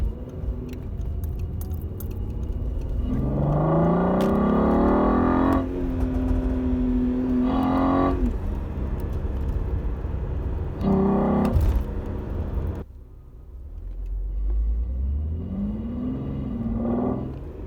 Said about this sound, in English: This is all coming in from the engine.